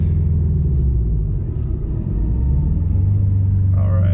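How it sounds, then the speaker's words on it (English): A Subaru-style turbo car fitted with a Perrin cold air intake pulls hard from second into third gear on a curvy road, a loud steady engine rumble and road drone filling the cabin throughout, with a brief rising whoosh near the end. "We'll see if we can get a nice little second to third pull here."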